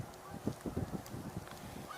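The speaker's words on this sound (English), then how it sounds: "I'm hearing Canada geese" Canada geese give a short series of faint, distant honks, several calls in quick succession over a soft outdoor background.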